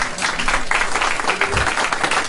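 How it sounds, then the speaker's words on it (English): A studio audience claps in dense, sustained applause, loud and continuous for the whole stretch with no single voice standing out. "Applause"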